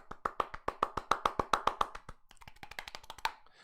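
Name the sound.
hand clapping applause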